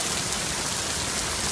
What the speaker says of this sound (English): to having lightning, to being really stormy like it is right now